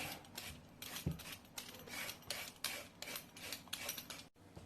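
Sweet potato skin being peeled by hand, a rhythmic series of close scraping rasps repeating roughly every half second, fairly quiet with no talking.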